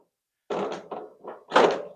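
Anker Everfrost 53L dual-zone camp fridge freezer, its lid swung shut: a few dull, close thunks in quick succession, ending on a heavier, fuller closing thud.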